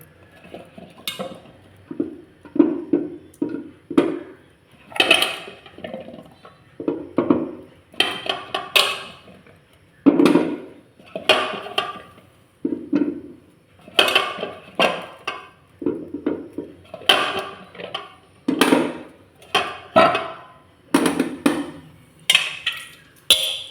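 Whole Indian gooseberries (amla) being set one by one onto a metal idli steaming plate, with repeated light clinks and taps of fruit and metal in an irregular rhythm, close up with no talking.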